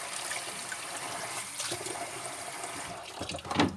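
Water pours and splashes steadily through a sieve into a sink, draining from washed celeriac, a continuous rushing trickle with a few louder splashes near the end.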